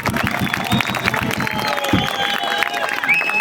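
A crowd at a presidential election rally in Şile claps and cheers amid a busy, noisy backdrop, steady mid-level applause with voices mixed throughout.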